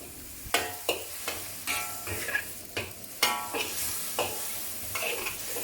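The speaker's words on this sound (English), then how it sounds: "Continue stir frying over medium to high heat to bring out the aroma" Vegetables stir-fried over medium to high heat with a splash of water for Thai rad na, steady sizzling punctuated by rhythmic spatula scrapes and clacks against the pan, close and fairly loud without any speech.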